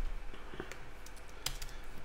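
Soft keyboard clicks tap out irregularly, with one sharper keystroke standing out, quiet and close with no talking.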